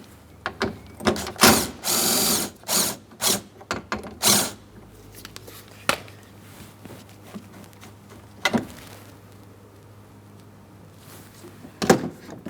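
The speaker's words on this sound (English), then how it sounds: "I'm going to be holding onto the window regulator and motor while I remove this bolt." A ratchet works loose a long mounting bolt on the front window regulator of a 2003–2007 Cadillac CTS, giving a burst of close, rapid clicking bursts, then quieter handling and a final sharp click.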